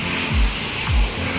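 Spray hisses steadily at a washing station as a dirty 2025 Gen3 Suzuki Hayabusa superbike is cleaned. The jet runs close and continuous, and its tone rises and falls in two low sweeps as it passes over the bike.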